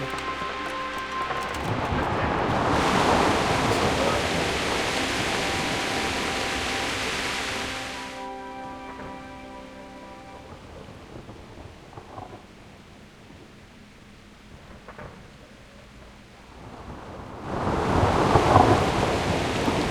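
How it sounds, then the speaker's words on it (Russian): Steady rain hiss with deep rolling thunder rumbles in the video game Kingdom Come: Deliverance, swelling loudly near the start and again at the end, with quieter stretches of rainfall between. "Может, дождик начался."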